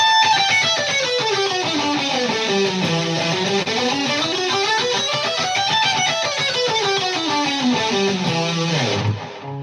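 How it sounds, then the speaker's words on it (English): An E Dorian scale on guitar, played high up the neck, climbs and falls as a steady run of single notes with a slightly distorted, effected tone, loud and close with no talking. "I was playing an E Dorian scale, which sounds like this."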